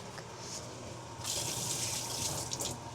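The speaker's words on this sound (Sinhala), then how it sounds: "ඔව් වතුර වැටෙනවනේ." Water runs from a kitchen tap into a sink during Korean bibimbap preparation, a faint hiss that swells into a steady, louder stream partway through, with no talking.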